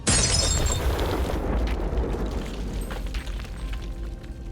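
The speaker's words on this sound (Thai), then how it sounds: "เสียงระเบิดสุดท้ายดังขึ้น" A loud, rumbling blast with crackling debris, starting with a sharp burst and then settling into a sustained low roar that slowly fades.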